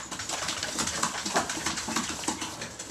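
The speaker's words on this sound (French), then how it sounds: "Ça c'est les cochons qui essaient de monter dans la rampe de la cage" Guinea pigs scrabble at a cage ramp while trying to climb it, giving a steady patter of light scratching and scuffling with a few soft squeaks, at moderate distance.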